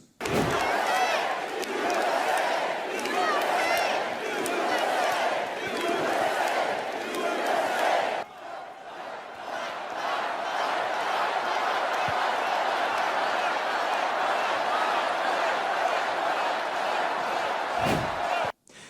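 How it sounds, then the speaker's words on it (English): A huge arena crowd at the RNC chants in rhythm for Donald Trump, loud, repeated pulses of massed voices that give way after several seconds to a steady, lingering roar of cheering. "If you can hear in the background, they're chanting, "We want Trump, we want Trump.""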